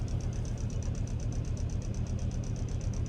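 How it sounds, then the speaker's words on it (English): Rapid rhythmic squeak from heavy engine vibration in a 2006 Volvo XC70 with badly worn bottom motor mounts, repeating steadily over a low rumbling engine drone, no talk. "squeak back there that's caused by the serious vibration"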